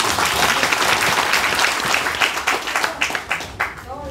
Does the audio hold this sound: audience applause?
yes